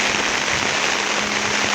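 Heavy rain pours down steadily near a border area where water pumps sit in flooded fields, a dense continuous hiss with no pauses.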